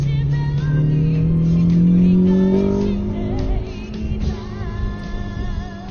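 A Honda Accord CL7 with a K20A VTEC engine pulls away on a wet road, revs climbing in a rising whine that peaks and then eases into a steadier engine hum, close and loud.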